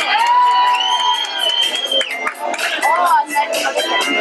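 A crowd cheering and whooping for a contestant at a 1989 Miss Arc en Ciel beauty pageant in Alençon, loud and continuous, with excited voices and shouts mixed into the noise.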